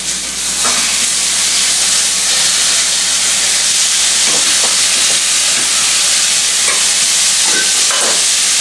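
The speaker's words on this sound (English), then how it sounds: "We're going to sear that for about 3 minutes." Pork chops sear in a hot pan, giving a loud, steady sizzle and hiss that holds through the whole stretch, with a few faint clicks of tongs and no voices.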